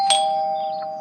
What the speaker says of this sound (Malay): Bunyi loceng pintu kan?